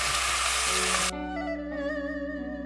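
Chunks of pork belly land in a hot pot for Taiwanese braised pork, starting with a loud, dense frying sizzle that cuts off after about a second and leaves a steady, quieter bubbling hiss with a faint tonal hum.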